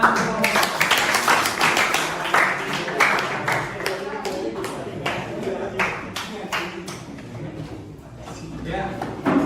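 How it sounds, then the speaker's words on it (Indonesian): A classroom claps after a group presentation in a vehicle maintenance lesson, with loud, close, uneven hand claps that thin out toward the end. "Ya, tepuk tangan."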